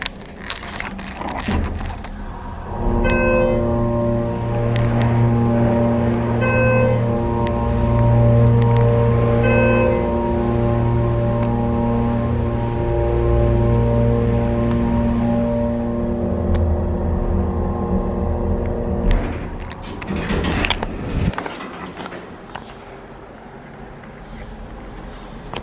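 The motor of a worn Schindler 330A hydraulic elevator in a parking garage starts up and runs with a steady, loud low hum and tonal whine for about fifteen seconds, then winds down and stops with a clunk.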